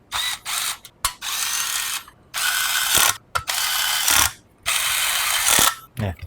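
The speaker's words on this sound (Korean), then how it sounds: "이렇게 반대로 하면 볼트를 체결해 주시면 되거든요." Bolts being tightened with a ratcheting tool while a Xyloss H202 cooler is mounted in an ABKO Suitmaster 760S tempered-glass PC case; loud, close clicking ratchet bursts repeat about six times with brief pauses between, and no voices.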